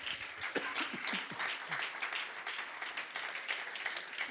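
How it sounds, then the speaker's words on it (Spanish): A church congregation clapping in praise during a sermon, a fairly quiet, steady patter of many hands with a few sharper claps standing out, continuing evenly without speech. "Dele una ofrenda de palmas al Rey, mis hermanos."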